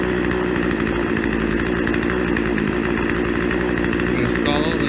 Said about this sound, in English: but it's idling. I just increase the idle speed a little bit.